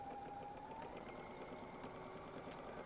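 Sewing machine stitching down quilt binding in the ditch: a faint, steady mechanical whir with a thin rising whine, close by and continuous, with no voices.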